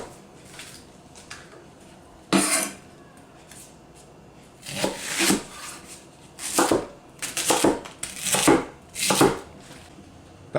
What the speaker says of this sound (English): Back to the remaining leek that we have, what I want you to do is go ahead, slice it in half lengthwise